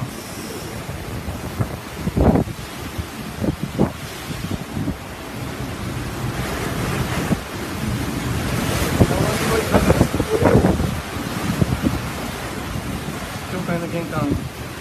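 Typhoon Trami lashing Japan with violent wind and torrential rain, a loud continuous roar of gusts and pounding downpour buffeting the microphone, with surges swelling and fading throughout.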